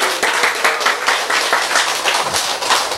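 Hands clap in unison from a lecture audience, a brisk, even beat of many palms repeating for a few seconds at moderate loudness with no talk over it.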